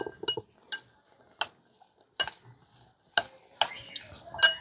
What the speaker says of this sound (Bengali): এবারে লেবুর রস দিয়ে লঙ্কাটাকে একটু ভালো করে মিশিয়ে নেব